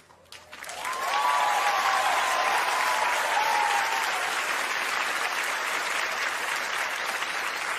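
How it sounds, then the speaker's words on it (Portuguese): A large audience bursts into applause after a short quiet lead-in, swelling within a second into dense, sustained clapping from many hands that holds loud and steady to the end. "Palmas para Jesus, né, gente?"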